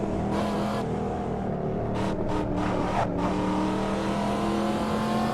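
A Corvette Stingray engine revs hard in the racing game Assetto Corsa, a loud continuous roar with rising harmonic tones and brief dips between gear changes, heard alone without talk.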